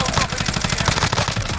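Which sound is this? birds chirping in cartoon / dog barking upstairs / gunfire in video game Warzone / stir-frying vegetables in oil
gunfire in video game Warzone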